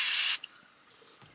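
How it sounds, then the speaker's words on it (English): A short, loud hiss of cleaner sprayed inside an opened Cricut cutting machine lasts about a third of a second. Faint small clicks follow, and a second spray burst starts right at the end. "And you might need a little bit of extra spray."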